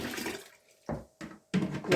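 Water splashes out of a hot can in short uneven bursts while brewing Coopers Original Australian Pale Ale at home: a pour, a pause, then several brief close splashing gushes.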